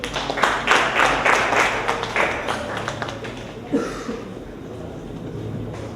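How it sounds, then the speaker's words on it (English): A crowd claps in a burst of applause for a speaker at a technology talk, fading after a few seconds and leaving low room murmur. "Please give him a round of applause."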